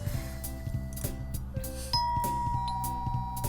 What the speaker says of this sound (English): That was a cute-ass doorbell, strangely enough.